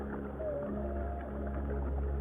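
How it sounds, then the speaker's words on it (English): Humpback whale song under the ocean, a long low melodic moan that rises and drifts, heard faintly through a steady low underwater rumble. "This is the song of a humpback whale."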